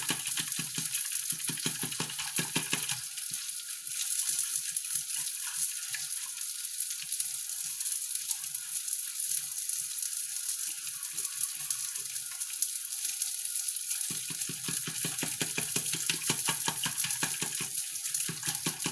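A water and flour mixture cooking in a pot with melted butter, a steady broadband sizzling and bubbling hiss that runs continuously, close and fairly loud, with faint stirring underneath and no talking.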